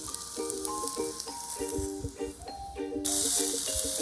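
Mushrooms sizzle in a hot pan beside a stove, a soft steady frying hiss with light stirring clicks, some tonal chiming over it and a burst of louder hiss near the end; no one speaks.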